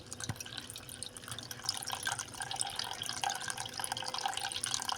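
Panipuri water being strained through a sieve into a bowl, a continuous soft trickle and patter of liquid with small drips, close and moderately quiet, no talking.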